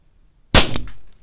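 A single sharp shot from a Weihrauch HW4 2.5-inch air revolver, loud and close, with a sudden crack followed by a brief secondary burst and a short fading tail, alone without talk.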